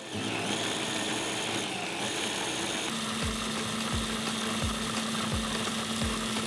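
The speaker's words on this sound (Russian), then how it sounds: "Для этого используем ножевой блендер." After a noisy start, a blade blender motor kicks in and whirs steadily, with regular thumps as chopped citrus peel knocks against the jar.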